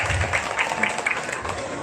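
An audience at an Islamic boarding school graduation ceremony claps together, steady applause filling the short stretch without speech.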